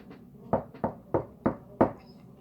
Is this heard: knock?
yes